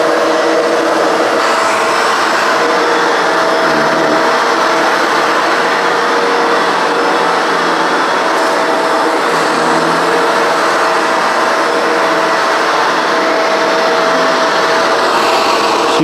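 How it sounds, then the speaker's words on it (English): Shark NV752 vacuum cleaner running on a rug, a loud, steady motor roar with broadband airflow hiss that holds constant for about sixteen seconds, close up and without talk. "Now let's vacuum the dirtier part."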